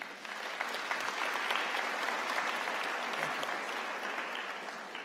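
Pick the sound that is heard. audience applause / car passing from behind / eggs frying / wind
audience applause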